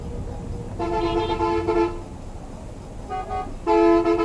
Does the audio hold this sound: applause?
no